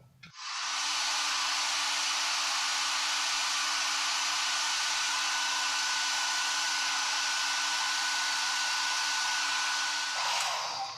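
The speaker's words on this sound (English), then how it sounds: "So I don't have a cool button on this particular hair dryer" A hair dryer with no cool setting blows steadily on a wet handlebar mustache, a loud, constant airy roar that starts abruptly and holds for about ten seconds before cutting off near the end.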